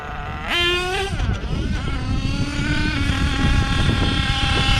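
A nitro engine in an HPI Savage XL RC truck, a K5.9 or X4.6 with its low-speed needle being tuned, revs up loudly and then holds a steady, buzzing high-pitched drone close by.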